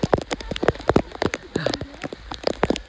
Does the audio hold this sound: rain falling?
yes